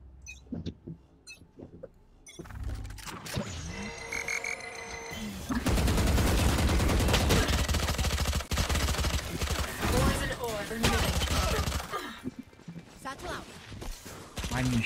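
Sustained automatic rifle fire with overlapping shots and footsteps in a Valorant match, dense and loud through the middle, with short bursts before and after and players talking over it.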